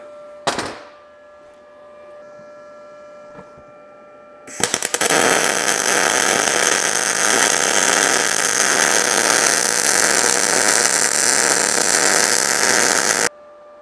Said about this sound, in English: we see it can weld steel relatively good